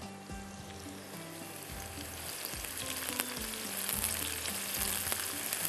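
Onions fry in a pot for chicken shahi handi, a dense continuous sizzle and crackle that swells slightly louder toward the end, with faint low clanks underneath.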